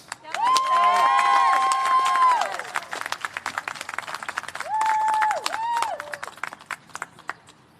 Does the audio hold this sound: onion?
no